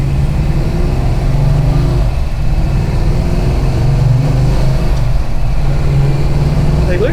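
Deep, steady rumble from the engine of a 1969 HEMI Road Runner Mopar muscle car, loud and close throughout with a rough, even throb and only slight swells in pitch.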